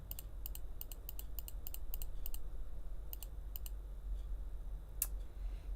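Mouse clicks on buttons in Reaper audio software: sharp, quiet clicks in quick bursts, then a few sparser ones over a faint background hum.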